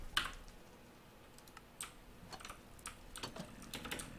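Light, irregular keystrokes clatter on a newly bought computer keyboard, soft clicks in quick uneven bursts, close and quiet with no voices.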